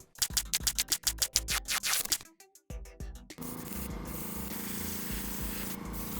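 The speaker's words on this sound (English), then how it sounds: "Now that the black is done, I'll just mask off where the red edges go and we can start painting red." A 3D printed Batarang gets a coat of red spray paint after masking: a series of short scraping and rattling noises gives way to a steady, close hiss of aerosol spraying lasting several seconds.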